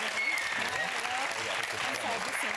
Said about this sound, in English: They'll give you a nice round of applause as you come out.